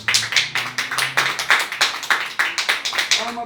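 Rhythmic group clapping from a church congregation, steady sharp claps in a fast beat, close and fairly loud, with a low hum or faint voice under the first second.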